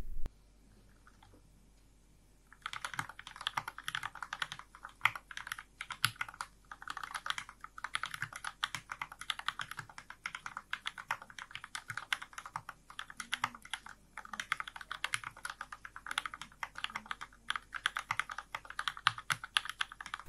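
Steady fast typing on a Unigo 66 custom mechanical keyboard, a dense run of clacky keystrokes close to the mic for most of the stretch after a brief quiet start, with no talk.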